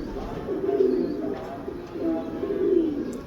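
A pure Sialkoti pigeon cooing close by in two soft, throaty low phrases, rising and falling over a quiet background with no talking.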